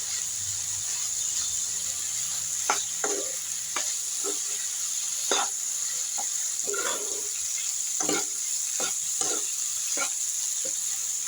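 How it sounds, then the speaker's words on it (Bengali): Dried fish (shutki) is stir-fried in a pan, a low steady sizzle punctuated by irregular scraping clicks of a spatula against the pan, fairly close. "লোটা শুটকিগুলো দিয়ে আমি আর একটু ভালো করে কষিয়ে নেব।"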